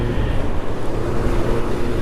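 Cool wind rushing past while driving a car in holiday traffic near Nakhon Ratchasima, a steady loud low roar of buffeting air with no talking.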